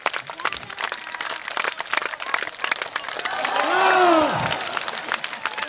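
A crowd at a Finnish log rolling championship claps and cheers steadily, the applause swelling around the middle, mixed with an announcer talking and a brief rising whistle-like tone.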